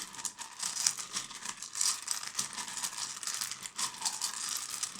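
Tarot cards shuffled by hand for a reading, a soft crinkling patter of card edges rippling against each other in short uneven bursts, quiet and close with no talking.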